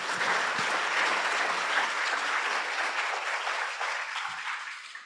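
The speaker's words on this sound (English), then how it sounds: "can we get another round of applause for all the speakers?" A conference audience claps steadily and loudly for several seconds for the speakers, the applause thinning slightly toward the end.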